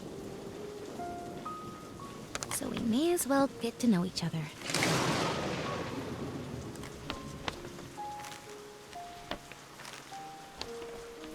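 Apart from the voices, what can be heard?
rainstorm with thunder in video game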